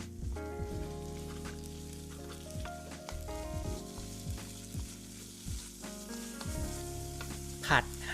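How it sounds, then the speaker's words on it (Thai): Food stir-fried in a pan over high heat with seasoning powder, giving a steady close sizzle broken by repeated scraping and tossing strokes, a louder clatter near the end. "เร่งไฟผัดต่อได้เลยครับ"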